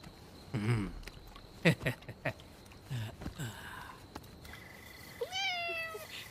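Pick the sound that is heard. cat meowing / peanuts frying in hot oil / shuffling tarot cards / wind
cat meowing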